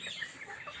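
A Brahma chicken gives a single short, faint cluck.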